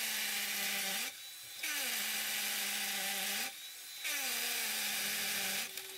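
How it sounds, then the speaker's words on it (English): High-pitched whine of a drill boring a hole into a hard floor, with its pitch dropping and rising as it repeatedly eases off and bears down. "moving the drill up and down allows the dust to come out of the hole"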